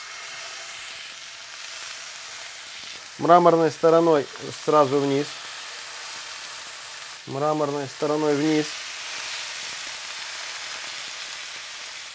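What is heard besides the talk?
steaks sizzling in hot pan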